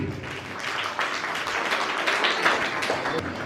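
Audience applause at a community ceremony honouring Savithri Amma, a steady burst of many hands clapping together, fairly close and continuous for the whole stretch without speech over it.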